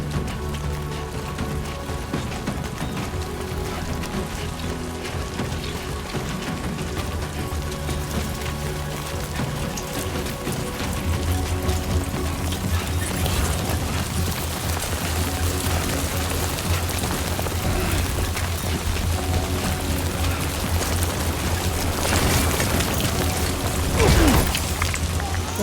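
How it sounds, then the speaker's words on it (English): Rain falls in the video game Death Stranding 2, a steady broad wash of downpour lasting throughout, layered with droning game tones and a brief louder surge near the end. "Rain. Gotta move."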